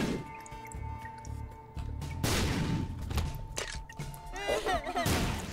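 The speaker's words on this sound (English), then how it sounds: "Great explosion." Sharp bursts and a loud explosion from the video game The Binding of Isaac: Repentance punctuate game music and effects, with squishy splatter sounds and a rising warbling tone near the end.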